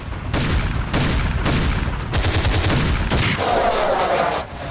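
Army artillery guns and shells firing in the Rajasthan desert: loud, dense bursts of rapid gunfire-like blasts in repeated volleys lasting several seconds, with no talk.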